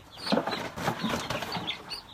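Leghorn chickens in a chicken house, clucking and squawking in quick overlapping calls with some wing flutter, close and fairly loud, no speech.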